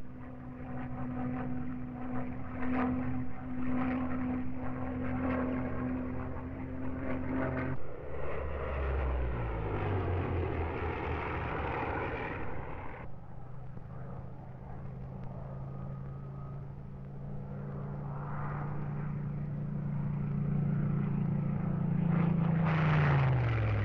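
A Supermarine Spitfire Mark 9 fighter in flight, its piston engine droning steadily with a pitch that shifts and swells as the plane passes, loud and continuous with no voices.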